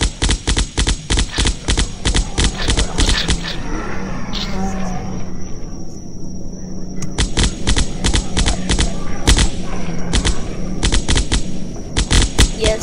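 Rapid, loud bursts of minigun and assault rifle fire in a zombie video game come in dense volleys with a short lull in the middle, with game effects and a voice in the mix.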